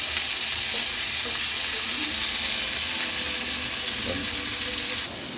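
Fish sauce ingredients are stirred in a frying pan, giving a steady, loud sizzle and hiss of frying with faint scraping from the stirring underneath.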